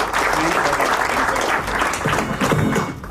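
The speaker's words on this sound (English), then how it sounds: "Big round of applause." A room full of colleagues at a company's fifteenth anniversary event breaks into a full round of applause, loud and sustained, with faint voices mixed in.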